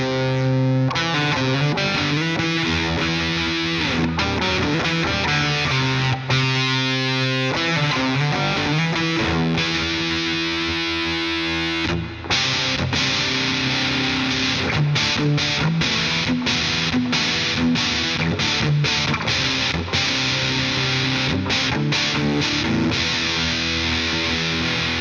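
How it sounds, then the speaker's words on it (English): Electric guitar with a Bare Knuckle Abraxas bridge pickup played through a Goliath Effects DILD-05 distortion pedal, modeled on the DOD 250, delivering loud, gritty chords and riffs with sustained notes and choppy bursts, continuous and up close. "DILD-05 from Goliath Effects. It's based on the DOD-250 distortion"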